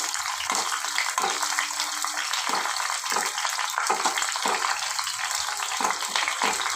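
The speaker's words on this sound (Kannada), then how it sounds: "ಫ್ರೆಶ್ ಕೊಬ್ಬರಿ ಇದ್ದರೆ ಬೇಕಾದ್ರೆ ಹಾಕೋಬೇಕು ಥರ ಎಲ್ಲ ಹಾಕ್ಬಿಟ್ಟು ಈ ಥರ ಎಲ್ಲ ಚೆನ್ನಾಗಿ ಫ್ರೈ ಮಾಡಬೇಕು" Fresh coconut and other ingredients frying in a pan, a loud, steady broadband sizzle that runs without a break, with faint low knocks now and then underneath.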